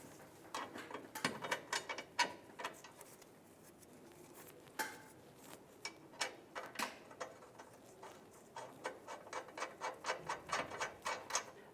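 A ratchet with a 15 mm socket tightens leaf spring shackle bolts on a 2007-2013 Chevrolet Silverado, giving rapid runs of sharp metallic clicks in uneven bursts, close and fairly quiet.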